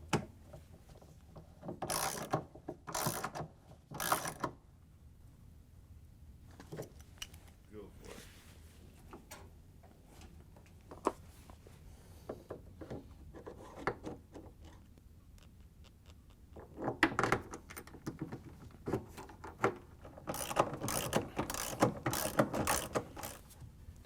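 A ratchet fitted with an extension tightens bolts on the spider arm assembly of a Samsung washer tub, producing repeated bursts of close, clicking pawl strokes separated by quieter stretches of handling noise.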